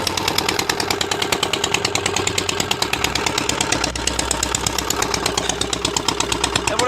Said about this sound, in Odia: ଏପଟେ ମେସିନ୍ ଚାଲିଛି